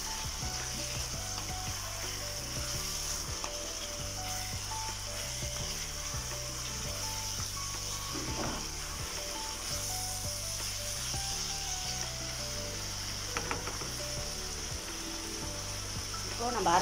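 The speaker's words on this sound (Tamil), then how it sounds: "இப்போ இந்த காஞ்ச மிளகாய் இந்த ஃப்ளேக் பண்ணி வச்சிருக்கிறத போடுங்க போட்டு நல்லா mix பண்ணி விட்டுருங்க" Dried chili flakes stirred into pepper chicken frying in a pan, a steady sizzle running throughout with scraping spoon strokes and a clink near the end, over soft background music.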